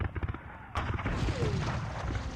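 British soldiers fire muskets in a Napoleonic-era war game set in 1808, a sharp report cracking out after a quieter start, followed by a sustained rumble of scattered shots and battle noise; a voice speaks underneath.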